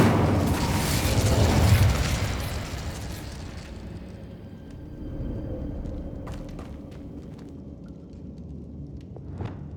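A fire spell blasts out in Hogwarts Legacy, a loud booming whoosh that swells over the first two seconds, then settles into a steady roar with scattered crackles and small pops fading toward the end.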